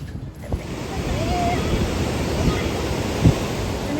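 Ocean surf rolls onto the beach at Puri, a steady broad wash of waves with some wind rumble, fairly loud and continuous.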